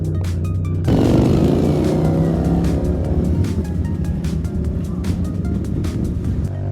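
A racing motorcycle pulls out of the pit lane onto a track during a GT Cup national selection session, its engine note rising loud and close from about one second and holding a steady, strained drone.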